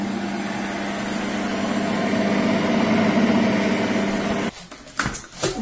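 A kitchen mixer runs at speed 5 whipping eggs and coffee, giving a steady motor whir for several seconds before it cuts off, leaving a few clatters and handling noises.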